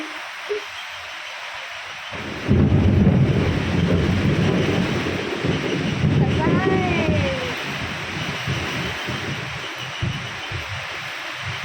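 A deep, rolling rumble of thunder swells in after a quiet start and lingers over steady storm noise, with faint voices under it.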